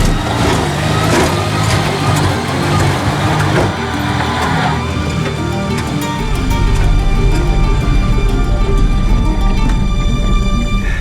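A Fiat 126p Maluch engine labours and revs as the small car accelerates up a rough, bumpy slope in the steppe, loud and close, with the engine note rising and thickening partway through.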